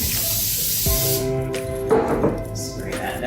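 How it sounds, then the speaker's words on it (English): A few short hissing bursts from a spray bottle misting dough while making easy French bread, sharp and close, with faint clinks in between. "Spray that down."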